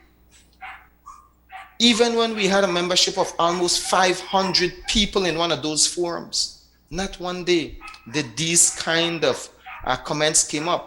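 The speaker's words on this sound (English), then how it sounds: "I want to apologize for the dogs and the neighbors' dogs" Dogs bark in the morning around a home, including neighbours' dogs, with repeated barks heard faintly in the background under steady talking by a man.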